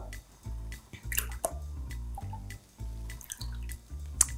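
Cream pours into a pot already holding a vanilla pod for a raspberry panna cotta cake, a soft wet drip and splash running steadily over a faint repeating background tone.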